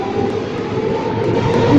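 A six-car first-generation metro train runs on Line 3 between Monastiraki and Ethniki Amyna in a train-driving video game, giving a steady, close rumble with rolling wheel noise and a few faint clicks.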